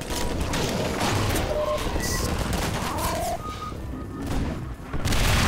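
Dense, continuous gunfire from Half-Life 2 with a mod, defending against Combine forces, crackles with booming impacts and a few electronic tones mixed in, loud and unbroken throughout.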